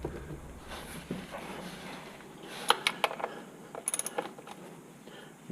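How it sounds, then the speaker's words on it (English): A ratchet loosens the 13 mm oil drain plug under a Jeep, giving quiet, close-up clusters of sharp metallic clicks in short bursts over a low background hum. "Right there is the drain plug. It is a number 13 millimeter, and I usually use a ratchet to get it off."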